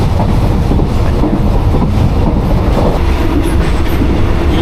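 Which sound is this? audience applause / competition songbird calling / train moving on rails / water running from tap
train moving on rails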